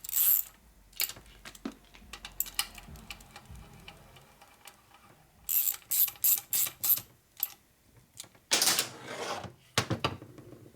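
Ratchet wrench clicking in quick bursts while bolts are tightened on a 1941 Harley-Davidson WLD 45 flathead stroker motor, 56 ci, during an engine build; close, sharp repeated ratcheting with pauses between runs.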